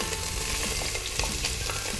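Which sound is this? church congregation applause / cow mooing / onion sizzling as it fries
onion sizzling as it fries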